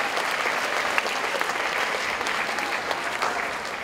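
Sustained applause from a school assembly audience fills the room, dense and steady hand clapping at full volume throughout with no talking.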